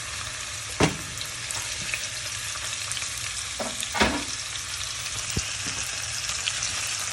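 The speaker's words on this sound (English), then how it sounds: "I'm gonna go ahead and fry that up until it's a little bit golden around the edges." Lentil stew ingredients fry in a pan with a continuous soft sizzle, broken by a few sharp stirring scrapes and clicks, close and moderately quiet.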